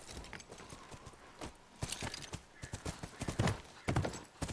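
Horse hooves clip-clop in a video game played on Survivor difficulty, a steady run of hoofbeats with a brief whinny, fairly close and loud with no talk over them.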